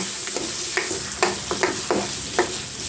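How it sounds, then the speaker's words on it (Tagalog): Potatoes and carrots frying in a pan for a fish afritada: a steady close sizzle broken by a series of sharp stirring taps and scrapes, with no one speaking. "Ayan, yung patatas. Ayan, piprito natin muna."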